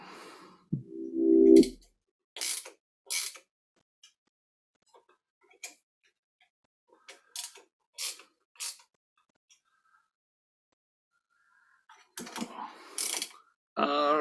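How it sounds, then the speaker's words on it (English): A torque wrench clicks during final tightening of a fitting, a few sharp separate ticks and clicks spaced across a mostly quiet stretch, with a louder cluster near the end and a short voiced sound early on. "And we're going to do the final tightening."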